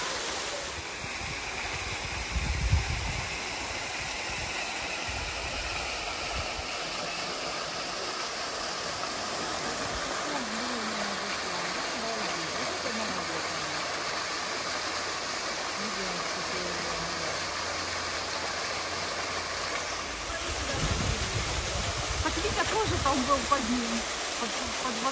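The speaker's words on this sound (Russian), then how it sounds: "Под водопадом." A waterfall on Maui sends out a steady, even rush of falling water, a broad continuous hiss that holds for the whole stretch, with faint voices talking nearby.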